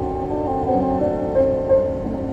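A 1969 Plymouth GTX's 8-track tape player plays steady music inside the car, with sustained tones and a few brief swells in loudness, heard up close without talk.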